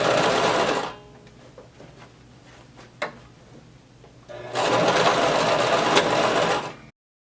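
A sewing machine stitches gathered maxi skirt fabric in two loud, steady runs near the microphone, separated by a few seconds of quiet handling with a sharp click in the middle.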